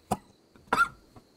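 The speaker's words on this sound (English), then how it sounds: "Sorry if I cough a lot and sniffle." A person coughing, two sharp close coughs with a fainter third one after, in otherwise quiet surroundings.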